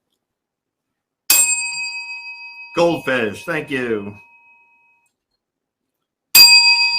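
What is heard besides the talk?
bell being rung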